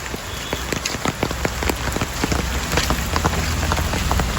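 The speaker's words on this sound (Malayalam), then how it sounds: "ഈ മഴയ്ക്ക് എന്ത് സുഖം" Steady rain patters on a hard surface with distinct close drops tapping irregularly over a constant wash, no voices.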